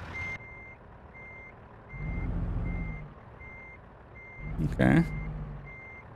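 A truck in American Truck Simulator backs up a trailer, sounding steady, evenly spaced reversing beeps over low engine rumble, with a sharp air-brake hiss near the end; a person briefly speaks.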